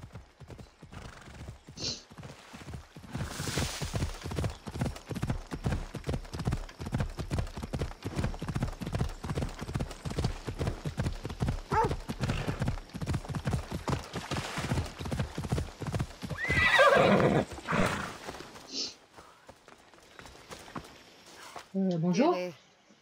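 Horse hooves clip-clop in a steady rapid gallop in the video game Assassin's Creed Odyssey, running for most of the stretch, followed near the end by a loud neigh and whinny, with game ambience behind.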